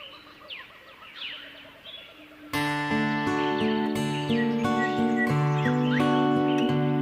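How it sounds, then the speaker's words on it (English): Birdsong sound effect of repeated chirps and whistled calls, heard alone for about two seconds before sustained music enters, the birds continuing faintly beneath it. "the start and finish were filled with birdsong"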